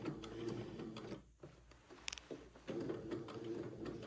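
A sewing machine stitches slowly along piping on an Eton suit, a low, close mechanical whir that pauses briefly in the middle with a few light clicks before running again.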